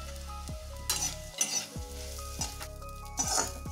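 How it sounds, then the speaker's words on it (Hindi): Poha being fried in oil with green food colouring, a loud bubbling sizzle punctuated by repeated clinks and scrapes of a stirring spoon against the pan, with no talk. "इस तरह से हम खीर को भी फ्राई कर लेंगे।"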